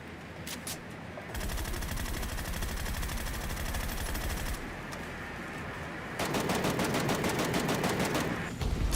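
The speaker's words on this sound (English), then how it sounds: "Like, you've got to shoot him." Gunfire in the video game GTA Online: long bursts of rapid automatic fire that stop and restart, one stretch sustained for several seconds, then a louder, denser volley.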